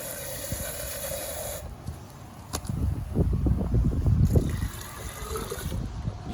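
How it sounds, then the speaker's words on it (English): Asparagus seeds and wet berry pulp pour and trickle into another container in a close, soft splashing rush that swells in the middle and then eases off. "I'm going to pour these in another container"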